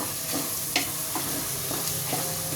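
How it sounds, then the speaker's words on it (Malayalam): Chicken sautéed with fiery kanthari chillies in a pan, a soft steady sizzle punctuated by several distinct spatula scrapes and stirs at close range. "ചേർത്തിട്ട് നന്നായിട്ട് വഴറ്റും ഇതിൻ്റെ പച്ചച്ചോവ് പോകാൻ വേണ്ടിയിട്ട്"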